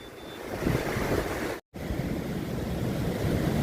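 The flooded Machchhu river near Vankaner rushing in full spate below an overflowing dam, a loud continuous roar of turbulent water with wind buffeting the microphone, briefly cut off midway.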